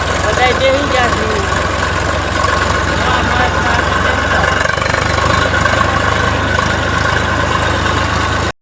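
A tractor engine runs steadily with a loud, close, continuous low rumble and mechanical clatter, shifting slightly in tone partway through, with people talking over it.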